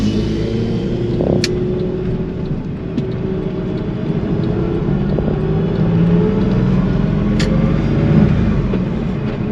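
Steady Porsche 996 engine idle while warming up, with a low, continuous rumble and light mechanical rattle, close by and unchanging, with no talking.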